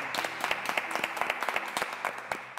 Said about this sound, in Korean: 우리 박 교수님께 박수 한번 드리겠습니다.